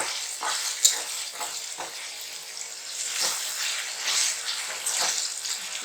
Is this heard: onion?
yes